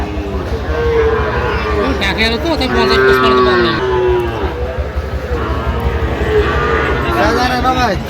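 At a livestock market in Khulna-Bagerhat, Sahiwal bull calves moo repeatedly, with loud, drawn-out calls rising and falling close by as people talk and bargain around them.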